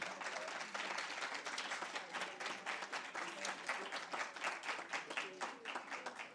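Audience applause for a winning high school debate team at a debating competition final, dense steady clapping from many hands throughout, fairly loud and close, with no speech over it.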